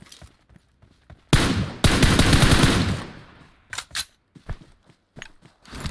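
Gunfire in a shooting video game, one long loud automatic spray followed by several shorter bursts and single shots, sharp and close.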